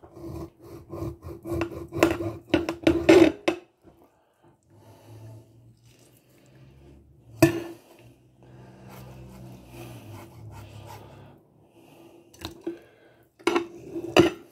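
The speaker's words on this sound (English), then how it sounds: "a cutting board and a good knife makes all the difference in the world" Knife slicing through pork tenderloin steaks on a cutting board, with a dense burst of cutting and scraping strokes, then quieter intermittent rustles and a few sharp knocks of the blade against the board.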